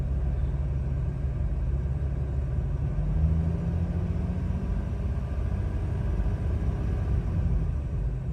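A Jeep Wrangler engine runs with a continuous low rumble that swells gently as the RPMs are brought up with a little gas, then holds steady, with no talking.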